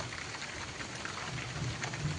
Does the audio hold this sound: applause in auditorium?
no